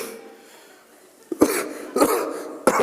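Three rough coughs come after a quiet pause, each a short harsh burst, close and fairly loud.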